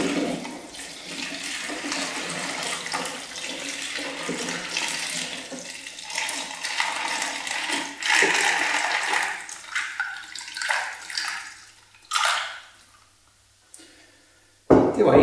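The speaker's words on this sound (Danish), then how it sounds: "Jeg hælder op her." Fermented lemon kefir pours from a container into a bottle with a steady liquid rush and gurgle. A few clinks and bumps follow, the flow thins near the end, and then a sharp knock sounds.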